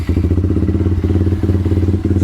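Kawasaki Ninja motorcycle with about 19,000 km on it, idling close by with a steady pulsing low engine beat and a faint mechanical clatter, with no talking over it.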